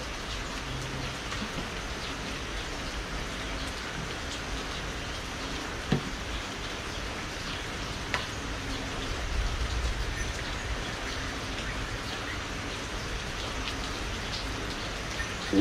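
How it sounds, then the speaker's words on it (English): Steady rain falls on a rainy day in Phala, Ban Chang, Rayong, Thailand, a continuous even hiss of drops on surfaces with a few faint knocks, and no one speaking. "the sights and sounds of Phala, Thailand during a rainy day"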